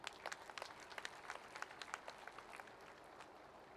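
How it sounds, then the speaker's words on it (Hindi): Audience at a Bahujan Samaj Party rally in Hoshiarpur applauding to welcome a chief guest, a steady patter of many hands clapping at a moderate distance, fairly soft and even throughout with no voices over it. "युवा दिलों की धड़कन, मुख्य अतिथि के रूप में पधारे उपस्थित हुए आदरणीय श्री आकाश आनंद जी के लिए तालियों की गड़गड़ाहट से स्वागत चाहते हैं"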